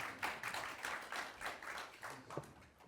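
A small group at an agency managers' meeting gives brief, quiet, loosely timed clapping in a room.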